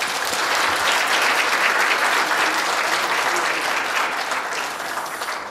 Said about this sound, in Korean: 총재님께 뜨거운 박수 부탁드리겠습니다.